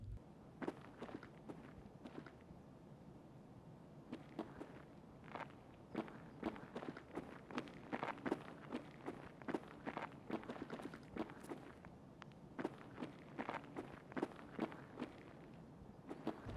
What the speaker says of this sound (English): Then we hear footsteps.